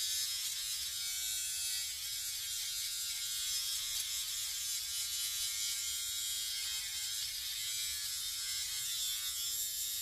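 Electric trimmer running continuously as it trims nose hair around the nostril rim, a steady close high-pitched buzzing whir with no pauses for the full length.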